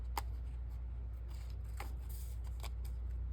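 Scissors cutting paper to make a junk journal pocket, quiet and close, a few short crisp snips spread over a few seconds against a low steady hum.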